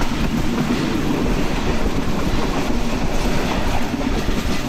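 Kurigram Express passenger train on the Dhaka to Kurigram line, heard from on board as a loud continuous rumble and clatter of wheels on track, with some wind buffeting the microphone.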